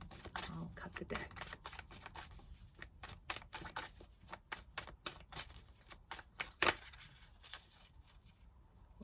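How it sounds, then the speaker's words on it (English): Oracle cards being cut and handled in a reading, heard as a run of crisp, close clicking and snapping taps with a few louder flicks, the card sounds scattered irregularly over quiet background. "I'll cut the deck."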